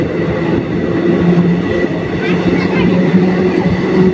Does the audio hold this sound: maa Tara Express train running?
yes